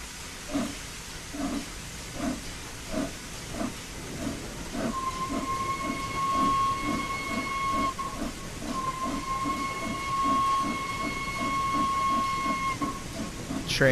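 The Flying Scotsman steam locomotive chuffs in a steady, evenly spaced rhythm as it gets under way, with hissing steam and a long whistle blowing through the second half.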